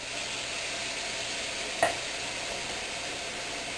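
Onions and Rotel tomatoes for jambalaya sizzle steadily in a pan, with one brief scrape of a stirring utensil partway through and no talking.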